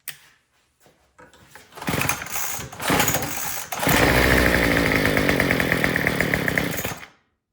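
A Troy-Bilt TB225 tiller engine cranks with a few pulls, then catches and runs loud and steady with a rattling, chainsaw-like buzz for about three seconds before cutting out.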